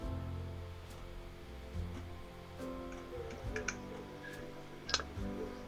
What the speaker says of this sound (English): you should like type your email in there